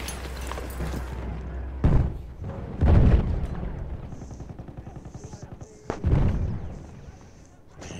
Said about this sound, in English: I'm killing it with the machine gun.